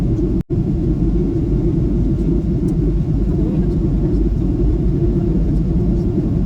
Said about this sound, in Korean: 제주공항으로 출발합니다. 착륙 준비 중입니다.